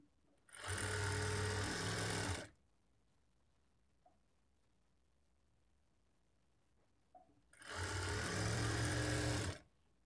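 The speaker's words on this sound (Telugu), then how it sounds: "ఈ పైపింగ్ని కొంచెం ఇలా లాగినట్లుగా పట్టుకొని స్టిచ్ చేసుకోవాలి." Sewing machine stitching thread piping, running in two loud, steady bursts of about two seconds each, separated by near silence with faint handling clicks.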